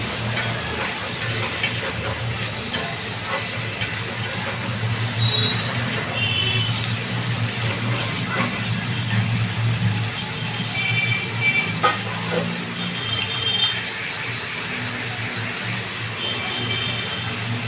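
Garlic and ginger paste fries in chicken fat for a Bengali matar ghugni, giving a steady close sizzle with occasional stirring scrapes and soft clatters throughout.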